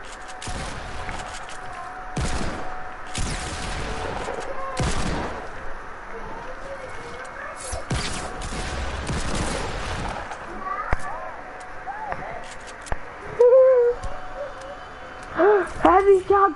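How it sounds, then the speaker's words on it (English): Heavy shotgun fire in a shooter video game, a series of sharp, loud blasts spaced irregularly with some rapid bursts, mixed with game effects and people talking throughout. "Heavy shotgun."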